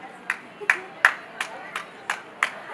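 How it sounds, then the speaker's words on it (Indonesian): Scattered hands clap at an award ceremony for inspiring men in Makassar, about seven separate sharp claps spaced irregularly, moderately close and faint, with no voices over them. "Tepuk tangan untuk semuanya."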